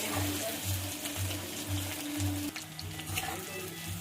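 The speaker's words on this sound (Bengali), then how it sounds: "ছাকা তেলে ভাজতে হবে" Cauliflower pakora deep-frying in plenty of hot oil, producing a continuous near sizzle with faint bubbling and a low pulsing hum beneath.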